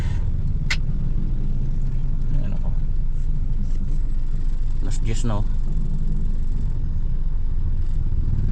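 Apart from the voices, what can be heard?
road traffic, cars and motorcycles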